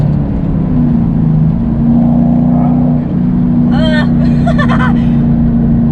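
A manual transmission car accelerates steadily, the engine holding a droning hum that rises in pitch before a gear change, heard from inside and loud, with brief voices speaking over it.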